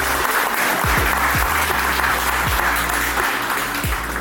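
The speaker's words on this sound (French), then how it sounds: "Applaudissez-le" Audience applause at a large French-speaking trading event in Paris, thick continuous clapping filling the room over a low steady hum, with occasional louder bursts.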